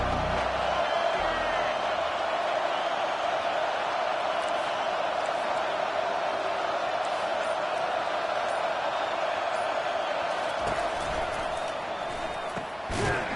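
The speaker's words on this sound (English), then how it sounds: "This crowd trying to show them what it's going to be like all day in this house." A steady, loud roar from a football stadium crowd at Penn State against the Hawkeyes, a continuous sustained cheer with no breaks across the whole stretch.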